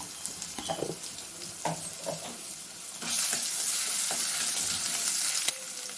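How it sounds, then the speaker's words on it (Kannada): Ginger-garlic paste spooned into hot oil for a corn rice dish, with light scraping and stirring clicks at first, then a loud, steady sizzle that bursts in halfway through and carries on close up, with no talking. "ಇದೊಂದು ಸ್ವಲ್ಪ ಹೊತ್ತು ಫ್ರೈ ಮಾಡ್ಕೊಬೇಕು. ಶುಂಠಿ ಬೆಳ್ಳುಳ್ಳಿ ಒಂದು ಸ್ಪೂನ್ ಹಾಕ್ತಾಯಿದ್ದೀನಿ."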